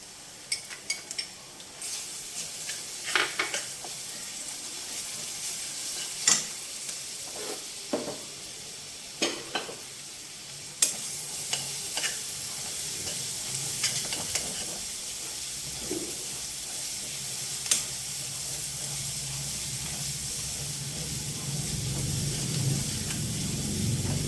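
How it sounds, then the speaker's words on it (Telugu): Ginger garlic paste fries with onions in a pan, a soft steady sizzle broken by repeated scrapes and clinks of a spoon stirring, close and fairly quiet throughout. "ఇప్పుడు ఇందులోకి అల్లం వెల్లుల్లి పేస్ట్ అండి, అల్లం వెల్లుల్లి పేస్ట్ వేసుకున్నాం."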